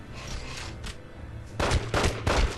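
Gunfire in a Godfather video game: a faint, muffled exchange at first, then three loud, close bursts of shots ringing out in quick succession near the end, with no speech.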